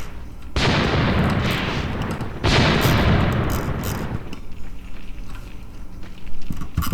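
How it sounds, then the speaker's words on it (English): Heavy booming fire erupts in a WWII-era battle in the tactics game Graviteam Tactics: Mius Front, two loud blasts that each trail into a long rumbling roar and fade. "Okay, they're already firing."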